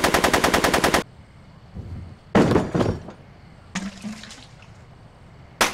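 Gunfire in Back to the Future Part II: a loud, rapid machine-gun burst opens, followed by two more separate bursts of shots with quieter gaps between them.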